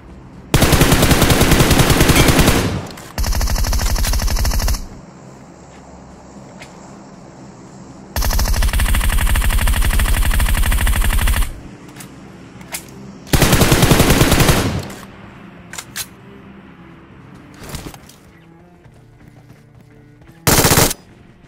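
Automatic gunfire in the video game PUBG: several long, loud machine-gun bursts separated by pauses, followed by a few scattered single shots, close and dominant, with no talk.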